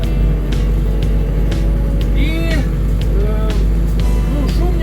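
Steady low engine drone fills the cab of a Scout TB-904 C tractor running in at -10°C, with faint whining tones rising and falling over the rumble.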